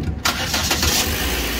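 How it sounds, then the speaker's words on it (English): A Chevy Cruze engine cranks briefly and catches, settling into a loud, steady idle close to the microphone. "you need to start your car, and that's what we're going to do right now"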